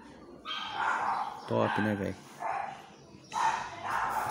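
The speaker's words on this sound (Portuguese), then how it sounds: "Desculpa os cachorros dos vizinhos aí" Neighbourhood dogs bark in short bursts and sharper yips from a moderate distance, breaking in and out between a man's speech indoors.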